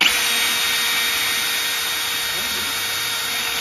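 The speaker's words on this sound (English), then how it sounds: "Wanna see me break a brand new drill bit?" A power drill whines steadily at high speed, a continuous loud grinding buzz as a brand new bit bores through material without pause, throwing big chips.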